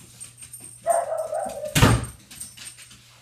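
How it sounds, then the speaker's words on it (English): Dogs at home bark once sharply after a whimpering whine, close and loud, with light household noise around it. "I'm sorry, and that's annoying, but they're dogs."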